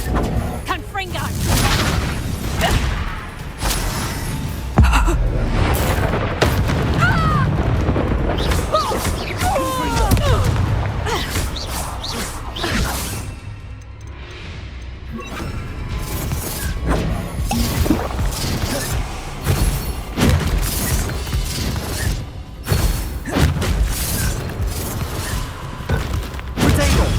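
Repeated Confringo fire-spell blasts in Hogwarts Legacy burst amid a noisy combat scene, a string of booms, crashes and whooshes layered over game music, with spoken dialogue and spell incantations mixed in.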